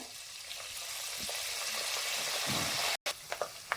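Dried red chilies and curry leaves frying in hot oil for a temple-style Melukote puliyogare gojju, a dense continuous crackling sizzle that briefly cuts out, then resumes with a few louder pops.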